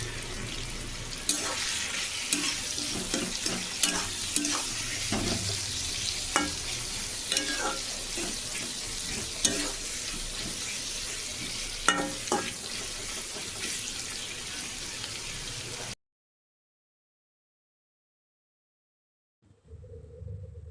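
Onions frying in a pan for chilli chicken, a continuous sizzle with frequent spatula scrapes and clinks for about sixteen seconds, then silence before faint noise returns at the end.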